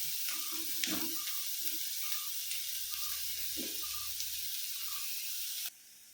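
Onions sauté in a pan until softened, a soft continuous sizzle with faint scattered pops and a low stirring scrape, ending abruptly near the close.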